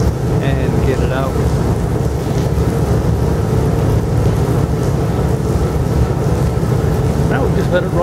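A car engine runs steadily during a cooling system flush, giving a constant low rumble with a broad, noisy wash over it and no change in pace.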